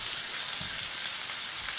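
Food sizzles steadily in a fully heated Masterpan frying pan, a constant close, even crackle with faint soft pops, alone without voices.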